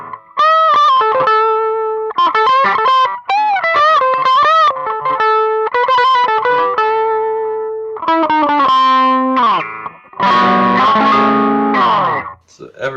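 A Boss Katana guitar amp runs an electric guitar through pitch-shifting and other wild effects, giving warbling, bending, distorted phrases with short gaps and a final smeared, reverberant swell, all loud and close.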